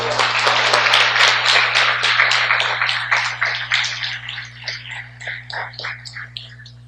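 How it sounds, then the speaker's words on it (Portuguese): Church congregation clapping during a sermon, a loud burst of many hands that thins into scattered, uneven claps over several seconds, with a steady low hum running underneath throughout. "Você pode dar um aplauso a Jesus por isso?"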